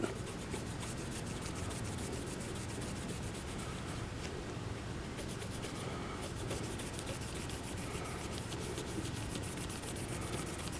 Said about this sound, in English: We're just going to polish it.